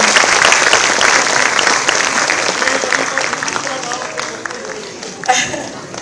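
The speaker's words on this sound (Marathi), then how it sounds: "त्यांच्यासाठी खरं जोरदार टाळ्या झाल्या पाहिजे" Enthusiastic audience applause at a children's theatre event, loud sustained clapping from a crowd that gradually thins and fades over several seconds.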